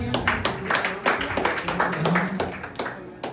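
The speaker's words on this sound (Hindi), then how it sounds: "इनके लिए जोरदार तालियां" Audience applause at a fire safety and first aid training session, with a steady run of hand claps mixed with some talk.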